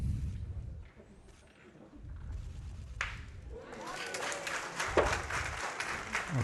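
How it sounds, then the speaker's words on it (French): Crowd applause at a French pétanque tête-à-tête championship final after a carreau on the jack, rising from murmured commentary and court sounds into sustained clapping from spectators at middling distance. "vous avez entendu les applaudissements."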